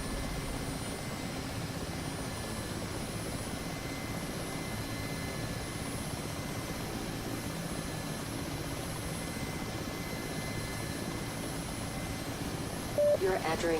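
An Mi-8 helicopter taking off in the DCS combat flight simulator, a steady, loud rotor and turbine drone running unchanged throughout with a brief bump near the end.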